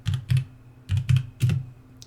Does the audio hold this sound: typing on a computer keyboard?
yes